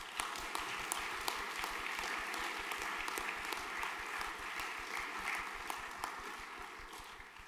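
A faint, even round of applause from an audience at a junior graduation ceremony, steady scattered clapping heard from a distance and carrying on for several seconds without speech.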